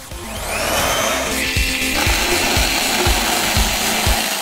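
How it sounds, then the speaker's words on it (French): An electric mixer whirs loudly and steadily while beating egg whites, with a faint rhythmic thumping pulse under the motor's buzz. "on va monter les blancs de neige et les incorporer dans la crème pâtissière"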